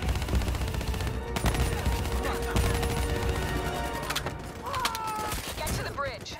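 Covering fire in Call of Duty: Black Ops III, a busy mix of rattling gunshots, crashes and battle noise layered with swooping effects, loud and continuous, with voices mixed into the din.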